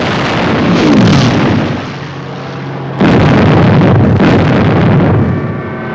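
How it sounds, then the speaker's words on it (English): Bombing explosions from a wartime air raid in the 1953 film From Here to Eternity, heavy rumbling blasts with two sharp loud onsets, continuing as a roaring wash of noise. "It's just a bombing."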